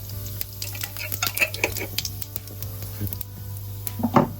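Cumin seeds crackle and sizzle in hot reused oil in a home kitchen while an Indian potato-cauliflower dish is being made, giving a steady close fry with scattered sharp pops that grow busier near the end.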